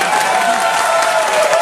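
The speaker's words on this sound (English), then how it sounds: "By the way, applause, applause," A studio audience gives loud, dense applause with some crowd noise mixed in, held steady for a short burst.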